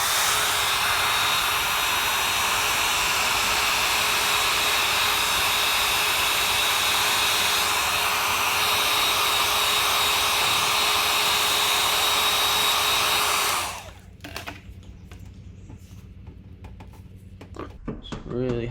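A heat gun or hair dryer blows hot air onto a car emblem to loosen its adhesive, giving a loud, steady whoosh with a motor whine that cuts off about three-quarters of the way through, followed by quieter handling noises.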